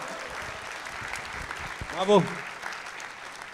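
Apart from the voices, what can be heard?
audience applause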